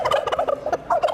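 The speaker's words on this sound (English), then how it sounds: "Check out these two ultimately doomed turkeys." Turkeys gobble loudly and close at a Thanksgiving event, a rapid warbling series of throaty calls running continuously.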